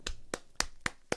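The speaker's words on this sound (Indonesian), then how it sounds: "Beri tepuk tangan untuk Allah kita yang dahsyat." Five distinct hand claps from a church congregation, crisp and evenly spaced about a quarter second apart, close and fairly loud with nothing else heard.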